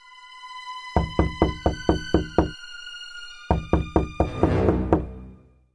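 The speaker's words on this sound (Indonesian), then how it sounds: "Serigala mengetuk pintu." Knocking on a door as a sound effect in an Indonesian children's story: two sharp series of about six even knocks with a pause between, close and loud.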